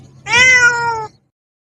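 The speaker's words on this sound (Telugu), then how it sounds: "Cat audio sound." A single recorded cat meow played back to drive off rats, loud and close, rising then holding steady for nearly a second over a faint low hum before stopping abruptly into silence.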